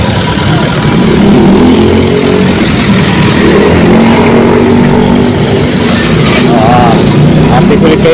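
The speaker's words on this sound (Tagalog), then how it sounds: "pumapasok yung truck natin" A delivery truck pulls into a junkshop yard, its loud engine rumbling and shifting with air-brake hisses and clanks, close and busy, while people talk nearby.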